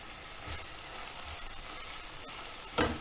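Spices, including pav bhaji masala and turmeric, sizzle in oil with vegetables in a pan over medium heat: a steady close frying hiss that ends in a brief louder burst as the mixture is stirred.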